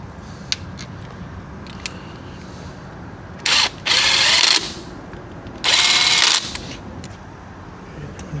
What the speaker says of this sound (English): Okay, so you want to put your 2 Allen screws back in.